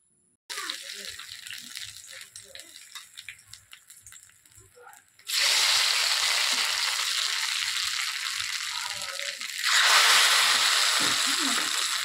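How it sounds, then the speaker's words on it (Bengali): Hot oil tempering is ladled a little at a time over village-style khichuri of moong and pea dal with vegetables in a large pot, setting off two loud, sustained bursts of sizzling after a quieter stretch. "হাতাতে করে নিয়ে জাস্ট একটু একটু করে ফোড়নটা দিচ্ছে।"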